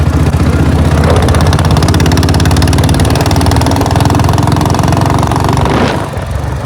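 A 1987 Royal Enfield Bullet motorcycle engine runs loud and close with a steady, throbbing single-cylinder thump, holding constant before easing slightly near the end; no talking.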